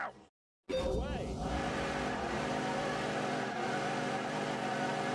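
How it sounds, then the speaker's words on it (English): Car tyre burnout in The Grand Tour video game, with a loud, sustained engine roar and screeching tyres running steadily after a brief silence. "It's a celebratory burnout."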